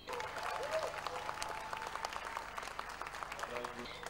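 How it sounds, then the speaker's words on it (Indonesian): Hundreds of supporters cheering and applauding at an election victory celebration in a Bandung hotel, a faint, busy patter of clapping with crowd voices underneath. "Sorak serai pendukung pun pecah saat Ridwan Kamil bersama istrinya tiba di lokasi pemenangan."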